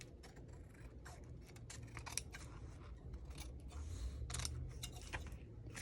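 Scissors snipping in a quick series of close, crisp cuts, irregularly spaced and fairly faint, with no talking.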